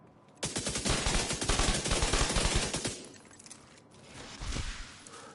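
SMG fire in the video game The Division 2, a fast burst of close, loud shots lasting a couple of seconds, followed by a quieter lull and a brief second flurry.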